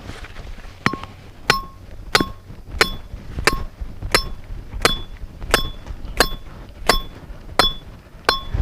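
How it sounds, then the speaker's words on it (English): A rebar stake is hammered into the ground beside a trail while a snare is being set, with about eleven sharp, ringing metallic clinks at a steady, roughly once-per-second rhythm, close and clear over quiet outdoor background. "Get that pounded all the way in the ground."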